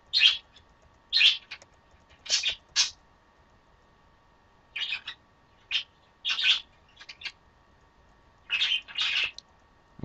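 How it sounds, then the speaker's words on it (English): Pet birds chirp indoors in short bursts of high tweets, spaced irregularly across a quiet room, fairly close with no talk over them. "And sorry about my birds."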